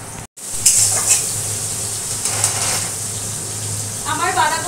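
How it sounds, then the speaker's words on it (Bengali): Cabbage and potatoes fry in oil with bay leaf, cumin and green chilli, giving a continuous close sizzle with occasional clinks and stirring noises from the pan. "এদিকে বাঁধাকপি আলু ওটা ভেজে দিচ্ছি, তেজপাতা জিরে ফোড়ন দিয়ে কাঁচা লঙ্কা ফোড়ন দিয়ে আলুটাকে ভেজে নিচ্ছি"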